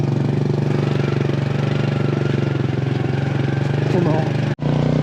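A semi-automatic scooter engine putters at close range in a steady, even mid-pitched rumble, with a brief cut near the end, on a countryside ride near Luang Prabang, Laos.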